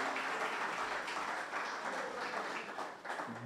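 Audience applause following a lecture on national wealth distribution, a steady wash of many hands clapping at moderate distance, sustained for several seconds without speech.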